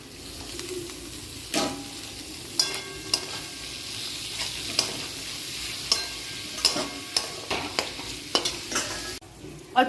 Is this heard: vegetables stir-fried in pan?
yes